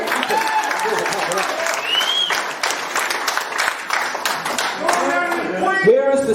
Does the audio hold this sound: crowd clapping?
yes